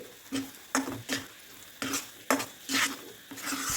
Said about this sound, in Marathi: याच्यामध्ये आपण टाकून घेऊ एक चमच, तूप आणि हे आपण मस्त मिक्स करून घेऊ